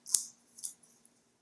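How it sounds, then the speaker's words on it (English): Scissors snipping into a cardboard box while unboxing an Amazon Eero mesh Wi-Fi system: one sharp crisp cut followed by two softer, shorter cuts, close and quiet with no talk. "Scissors. Cut into the box."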